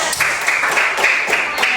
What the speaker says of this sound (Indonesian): Kita please kasih tepuk tangan.